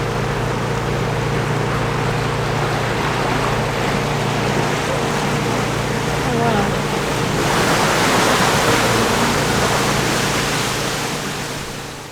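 A canal tour boat engine in Bruges hums low and steady beneath constant rushing water and wind noise, swelling a little louder toward the end.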